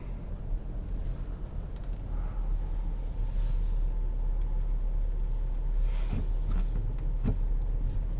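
A 2021 Kia Sorento EX rolls downhill under automatic downhill brake control, giving a steady low rumble of road and cabin noise with a few faint knocks, heard from inside without talk.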